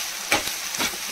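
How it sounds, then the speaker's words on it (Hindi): Onions frying in a pan for Kashmiri-style goat head curry, a steady crackling sizzle with two brief louder scraping stirs, close and alone. "ये हमारे प्याज अच्छे से फ्राई हो जाएंगे"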